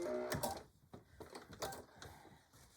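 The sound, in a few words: sewing machine sewing back stitches on a tool bag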